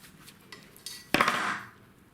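Blunt cutters snapping through a length of 2.5mm twin and earth electrical cable at a car boot sale: a sharp metallic crunch after a lighter click, fading away, close and alone.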